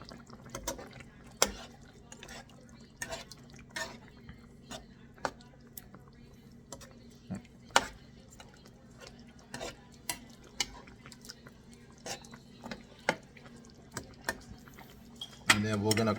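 Pork adobo with chili and salt is stirred in a pot, giving irregular close clacks and scrapes of a utensil against metal, with light frying underneath and a louder burst at the end.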